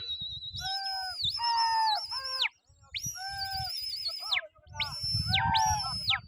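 Pigeons released at a large pigeon flying contest in Taunsa Sharif, with repeated bird calls and whistling chirps rising and falling over a busy crowd murmur; several bursts of calls separated by short pauses, fairly close.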